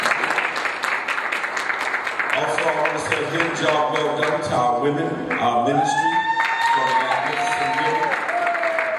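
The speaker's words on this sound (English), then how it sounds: "Let's give everybody who made the honor roll a hand clap." A church congregation at Heart of Faith Worship Center claps for honor roll students, steady hand clapping from a crowd with a person speaking over it.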